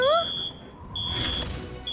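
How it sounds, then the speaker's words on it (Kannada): An electronic alarm beeps with a high, steady tone in short repeated bursts, separated by brief gaps and accompanied by a rising sweep and background noise in a film scene. "ಇದೊಂದು ಅಲಾರ್ಮ್ ಅನ್ಸುತ್ತೆ"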